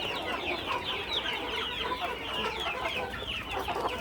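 Country chickens on an organic farm clucking continuously, a dense overlapping chorus of many hens at close to moderate distance, with no talk.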